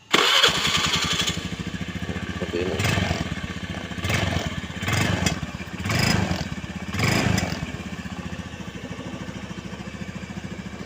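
A 2011 Honda Beat scooter engine idles close by with a steady putter, revving up briefly several times; a voice speaks briefly over it.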